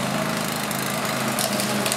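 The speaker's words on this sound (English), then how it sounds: "the mower doesn't really want to move through long grass" Engine of a homemade robot lawn mower running, a steady dense buzzing drone with no pauses, close and fairly loud.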